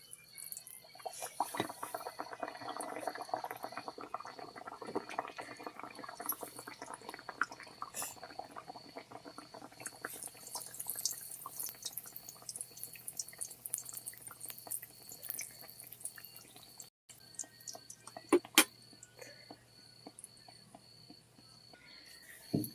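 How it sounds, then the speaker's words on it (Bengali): Dal puri fries in hot oil with a steady, fine crackling sizzle and scattered pops, close and moderately quiet, continuing throughout with a couple of brief clatters near the end. "দিয়ে দেবো গরম তেলে।"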